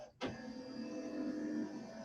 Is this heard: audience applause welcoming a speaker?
no